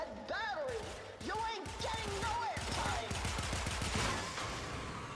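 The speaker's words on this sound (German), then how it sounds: "Ah, geil! Das ist ein Maschinengewehr." Rapid machine gun fire rattles in Warframe, a fast steady stream of shots under swooping, whistling game effects, with a voice talking over it.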